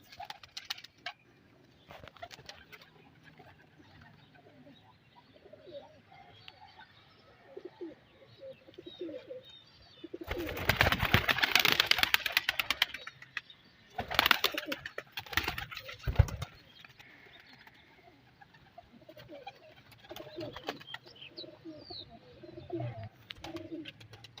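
Breeder pigeons, including teddy and golden varieties, coo and flutter in a loft setup, soft cooing calls scattered across the clip with a louder burst of wing flapping and activity in the middle, no talk.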